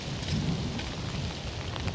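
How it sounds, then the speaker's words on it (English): Rain pours steadily while strong wind roars through trees in a field at night, a dense continuous outdoor wash with low rumbling gusts and no voices. "the rain's actually kicking in and the wind's picking up really big"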